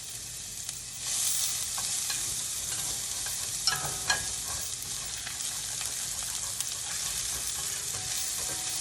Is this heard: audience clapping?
no